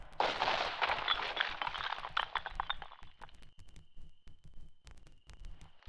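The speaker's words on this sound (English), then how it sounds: "I'm here just trying to see the awesome might of the storm cannon" A storm cannon fires in a wartime video game, set in the Deadlands, as a loud, broad blast rolls out for about three seconds, then gives way to a string of sharp, distant thumps and a steady faint tone.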